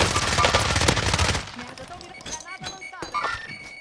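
Grenade launcher fire in Call of Duty: Modern Warfare, loud chattering bursts of gunfire at first, then quieter scattered shots and metallic clinks, with players talking over the action.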